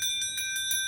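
A small bell from a set of Chuvash folk instruments rings in quick repeated strikes, bright, clear tones sounding close and alone with sustained shimmering overtones.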